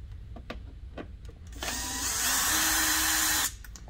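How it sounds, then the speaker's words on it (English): A power driver with a T20 Torx bit whirs for about two seconds, removing the OEM screw beneath the taillight of a 2017+ Can-Am Maverick X3, preceded by a few faint clicks of handling. "we're going to take a smaller Torx. This is a T20, and we're going to remove the OEM screw right underneath the taillight."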